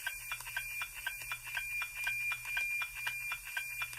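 A weather satellite radio signal is picked up on a receiver tuned to the center of its frequency: a steady tone carries a rhythmic tick-tock pulsing about twice per second over faint hiss, quiet and continuous, with no talking.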